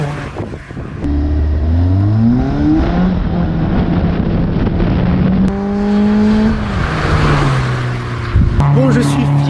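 A Caterham sports car at an academy circuit revs hard, its engine note climbing through repeated rising sweeps with gear changes and brief drops, loud and close throughout, with a voice briefly heard.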